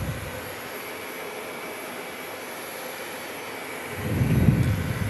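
A British Airways airliner landing at Phoenix Sky Harbor International Airport is first a faint, distant hiss that swells near the end into a deeper, louder engine rumble.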